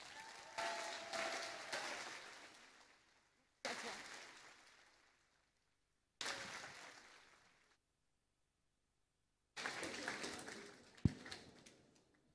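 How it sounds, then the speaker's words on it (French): An audience at a political conference on the euro crisis breaks into applause for the Italian economist and deputy Stefano Fassina, in four separate bursts that swell and fade, the last ending with a sharp knock. "Je vous invite à applaudir Stefano Fassina."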